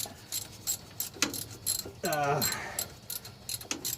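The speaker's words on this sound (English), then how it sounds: "getting these bolts tightened." Ratchet-like clicks and brief mechanical whirring as bolts are tightened on the engine of a 1977 GMC pickup near the crankshaft pulley, scattered light taps through a quiet garage background.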